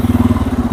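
A Bajaj Pulsar N250 single-cylinder motorcycle engine idles close by with a steady, rapid thumping pulse and a low, throbbing exhaust note, with no voices over it.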